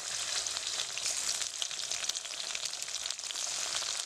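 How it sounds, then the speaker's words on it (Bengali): Chopped tomato and onions sizzle steadily in hot oil, a dense, even crackle close to the pan with small pops and no talking. "এতে দিয়ে দেবো টমেটো কুচি,"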